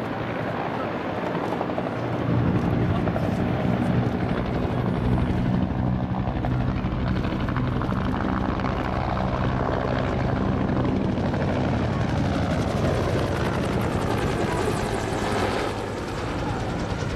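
A military helicopter makes a climbing turn at the Kisarazu air show, its rotor and turbine roar loud and steady throughout, with a public-address announcer speaking over it.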